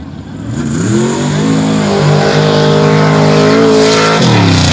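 Race car driven by Chris Beard, loud and close, engine revving hard with rising harmonic pitch sweeps that build over several seconds, then drop sharply near the end as it shifts or lifts off.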